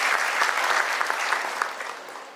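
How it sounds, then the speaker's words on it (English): Conference audience applause, a full, even roar of many hands clapping that holds steady and then begins to fade slightly toward the end, with no voices over it. "Can I have a round of applause for them"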